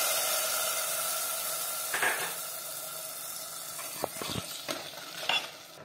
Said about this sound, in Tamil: இப்ப தாளிச்சத நம்ம எடுத்து கூட்டுல சேர்த்துடலாம்.